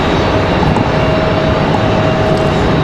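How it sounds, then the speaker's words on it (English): A Delta Airbus A220-300 arriving at Raleigh-Durham airport produces a loud, steady jet roar with a faint tonal whine, continuous and close, with no voices. "Good to see the Delta A220-300 back here."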